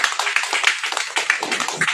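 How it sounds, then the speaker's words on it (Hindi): Clapping from an audience at a business motivation meeting in Hindi, a burst of many hands applauding with uneven rhythmic peaks, fairly close and loud, with no speech. "एक बार ताली होनी चाहिए भाई।"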